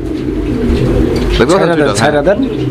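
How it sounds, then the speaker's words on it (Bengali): Large yellow pigeon from Gopalganj cooing close by, a short throaty warbling coo rising and falling over a second or so amid low background noise and someone speaking. "গোপালগঞ্জের বড় পায়রা, ইয়েলো কালার, ইয়েলো কালার একদম চুইটাল।"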